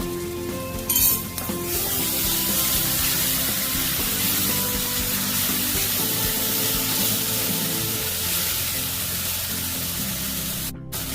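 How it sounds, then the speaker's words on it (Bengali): A small splash of water used to rinse ground spices hits a hot pan for a chicken and potato curry, setting off a steady, loud broadband sizzle with a brief clink near the start, no talking. "খুব সামান্য মশলা ধোয়া জল দিয়ে দিচ্ছি"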